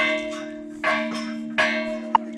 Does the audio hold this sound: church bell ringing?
yes